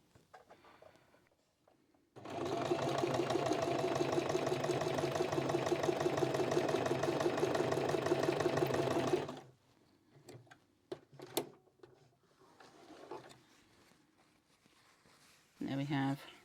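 A sewing machine stitching a quilt runs in one steady, fast whirring burst of about seven seconds with a rhythmic needle chatter, framed by quiet handling clicks and a person speaking before and after.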